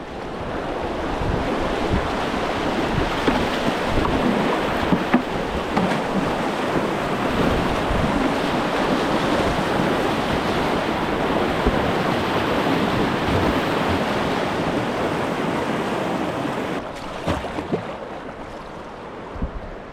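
Fast river water during kayak practice, a loud, continuous rushing roar with wind buffeting the microphone, steady for most of its length before easing near the end, with brief knocks.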